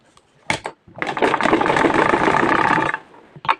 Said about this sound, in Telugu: తిప్పేసామండి రౌండ్ మొత్తం ఇలా కుట్టేస్తే చూడండి ఇలా ఈ మూల తిప్పాలండి ఓకేనా ఫ్రెండ్స్ ఇలా కుట్టేసుకుందాం